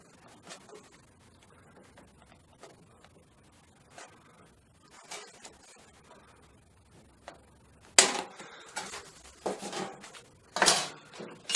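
Sheet metal held in a vise is cut, starting with faint scattered ticks and taps, then loud bursts of harsh, broadband cutting noise in the last few seconds, close by and with no talking.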